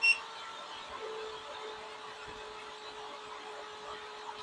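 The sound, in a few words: MelodySusie SProF dust collector running on lowest setting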